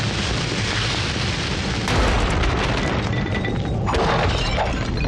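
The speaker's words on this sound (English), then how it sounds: "there's the exploding barrel" A barrel explodes in the Baldur's Gate: Dark Alliance video game, a loud, dense, continuous blast with crackling debris that keeps up its force across the whole stretch, with no talking over it.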